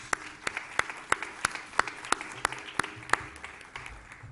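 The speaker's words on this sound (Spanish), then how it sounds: "un aplauso para ellos" Audience applause at a teacher training conference: a run of sharp, evenly spaced claps, fairly sparse and moderately close, suggesting a small group clapping briefly without voices over it.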